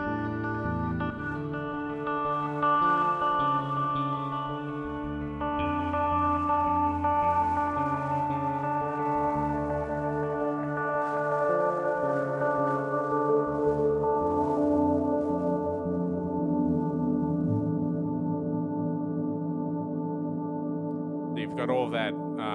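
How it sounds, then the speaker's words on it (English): Sustained music processed through a reverb effect whose decay is lengthened by a foot pedal, giving layered tones a long washed-out tail; near the end a few brief clicks sound. "I'm increasing the decay on the reverb, and, you've got that nice long reverb when it's fully depressed"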